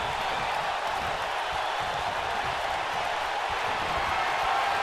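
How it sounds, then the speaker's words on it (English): A wrestling crowd in a WWE 2K video game arena roars in a steady, dense wash of cheering that holds at an even level throughout, loud and continuous. "Getting the crowd all fired up."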